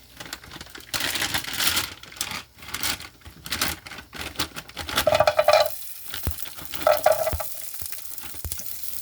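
French fries and quail eggs frying in a pan, a close crackling sizzle with scraping stir strokes and a few sharper bursts of spatter, no one talking.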